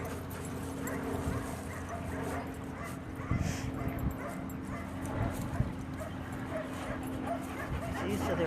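Several dogs bark, yip and whimper at play indoors, fairly distant and faint under steady room noise, with brief louder bursts.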